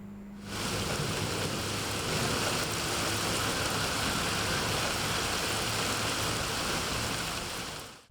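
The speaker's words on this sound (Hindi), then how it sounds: "लाहौर में तूफानी बारिश से हर तरफ पानी ही पानी हो गया।" Heavy stormy downpour in Lahore, a dense steady roar of rain that starts abruptly and holds loud and even throughout, with no voices.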